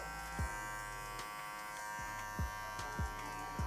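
Electric hair clipper buzzing steadily while cutting afro hair into a fade, a close continuous hum with a few soft knocks as the clipper moves along the head.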